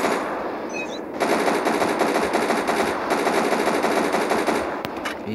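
Sustained machine-gun fire in a zombie video game, starting after a quieter second and then hammering on loud and close as one long unbroken stream of rapid shots, with no voices.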